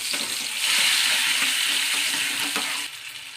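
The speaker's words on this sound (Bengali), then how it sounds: "এবার এই তেলটাতে আমি যে পেস্টটা করে রেখেছিলাম সেটা দিয়ে দিচ্ছি।" Spice paste dropped into hot oil for a paneer curry, giving a loud, steady sizzle and crackle that swells after the first half-second and stays dense throughout, with light stirring scrapes and no voices.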